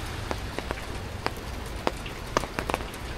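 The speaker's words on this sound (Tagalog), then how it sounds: "Tuloy-tuloy po yung ulan natin." Steady rain in Noveleta, Cavite, pattering on a hard surface, with scattered louder drops ticking through the constant hiss.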